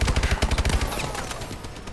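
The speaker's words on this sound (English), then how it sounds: "What the heck is that shooting?" Rapid automatic gunfire from an MP40 submachine gun in a Call of Duty game, a tight burst of loud shots in steady rhythm for under a second, then a ringing, noisy tail fading out.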